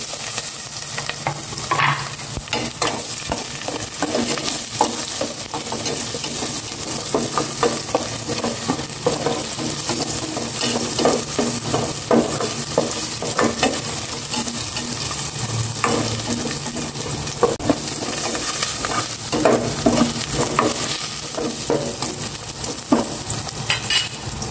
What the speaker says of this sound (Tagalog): Gisa ko na itong bawang sibuyas.